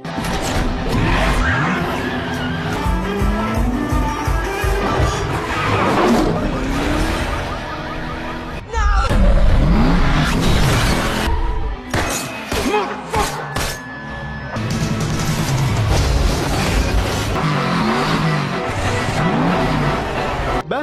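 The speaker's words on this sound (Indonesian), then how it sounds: "Baby dan Deborah kembali masuk mobil hingga terjadi kejar-kejaran." Cars racing and skidding in a film car chase: roaring engines, squealing tyres, thuds and crashes layered densely with music and effects, loud and continuous, with brief sharp impacts and a short lull midway.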